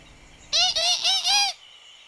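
Four quick, high baby-bird peeps in a row, loud and close, then silence.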